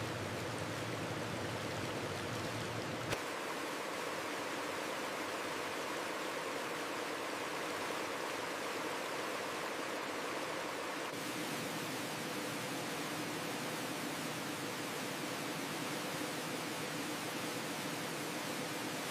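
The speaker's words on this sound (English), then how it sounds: "A continuous flow of water removes surface impurities and remaining particles." Continuous water flowing through enclosed factory washing channels carrying worms, a steady broad rushing wash that holds level throughout with a slight shift in tone partway.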